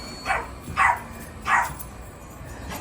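Three short barks from Labradoodle dogs at home, sharp and fairly close, spaced irregularly over a quiet background.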